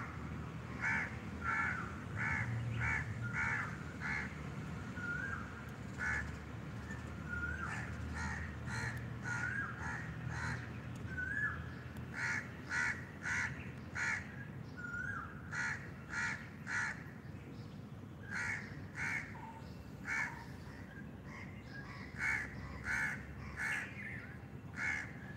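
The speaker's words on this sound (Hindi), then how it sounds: "पक्षियों की मधुर ध्वनि सुनते जाएं।" Crows cawing outdoors in a morning setting, repeated harsh caws in uneven bursts throughout, some nearer and some farther, over a soft background hum with other birds faintly present.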